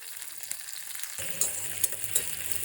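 Garlic and curry leaves fry in oil for lemon rice; a soft sizzle swells suddenly into a louder, fuller crackle as the ingredients hit the pan, with small sharp pops.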